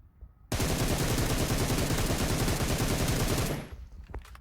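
Rapid automatic gunfire from a video game weapon fitted with attachments, one continuous loud burst of tightly spaced shots lasting about three seconds, then a short tail and a few faint clicks.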